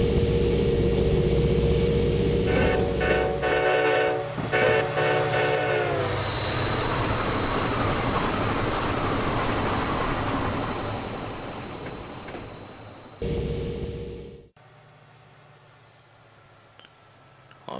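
An Amtrak F40PH diesel locomotive runs near top speed on a 50th anniversary run. Its engine gives a loud, sustained roar with a steady tonal whine and rail rumble, then drops abruptly toward a quieter hum near the end.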